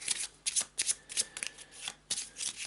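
A deck of item cards for the board game Gloom of Kilforth is shuffled by hand in close, bursty riffles and rustles, repeated several times with short pauses and no talking.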